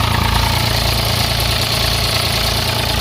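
A tractor's diesel engine idles close by with a steady, rumbling low throb, slightly knocking and continuous throughout, with no talk over it.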